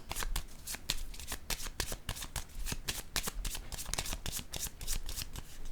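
Oracle cards are shuffled and drawn in a quick, close run of crisp riffling slaps and flicks that continue without a break, with no talking over them.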